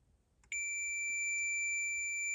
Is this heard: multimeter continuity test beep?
yes